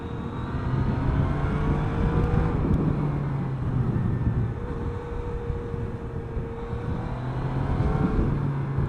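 A Yamaha Niken three-wheeled motorcycle cruising along a road, with a steady engine drone and shifting pitch under heavy rushing wind noise.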